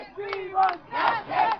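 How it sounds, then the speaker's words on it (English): Large protest crowd at India Gate near Amar Jawan Jyoti in Delhi, voices chanting together loudly in rising and falling waves, close and massed. "unprecedented crowd here at the India Gate near Amar Jawan Jyoti"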